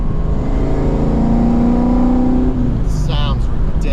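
A deep, throaty Coyote V8 swapped into a New Edge GT, with a Ford Racing control pack and full 3-inch exhaust, rumbles through the exhaust, its pitch rising briefly in a rev before settling, loud and close.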